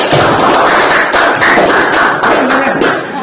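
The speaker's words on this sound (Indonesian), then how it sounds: "silakan beri tepuk tangan dulu untuk kelompok kedua." Loud, close applause from a classroom of students for the second group, many hands clapping rapidly and continuously, with faint voices mixed beneath.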